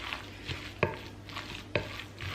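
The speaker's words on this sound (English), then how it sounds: "we're just going to fry them for 2 to 3 minutes, then flip them once" Food fries in hot oil in a home kitchen pan, giving a steady soft sizzle with a couple of sharp utensil clicks against the pan, close and fairly quiet.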